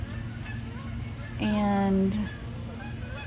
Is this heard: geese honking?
yes